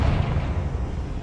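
A Confringo blasting spell explodes in the Hogwarts Legacy video game, a short, heavy low rumble filling the whole moment, close and fairly loud, with a dull sustained roll rather than a sharp crack.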